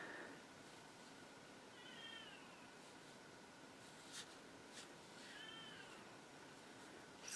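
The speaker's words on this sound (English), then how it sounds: "I apologize for the crying cat in the background." Somewhere in the background a house cat cries behind a door, two faint drawn-out meows spaced a few seconds apart, muffled and distant under a quiet room hiss.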